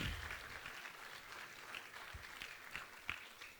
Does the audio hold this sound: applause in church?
yes